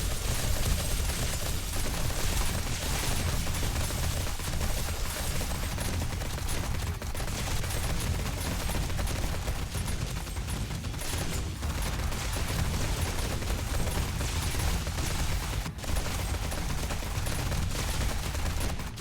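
Dense, continuous gunfire in the 7 Days to Die survival game, loud rapid shots layered with rumbling booms filling the whole stretch with no pauses.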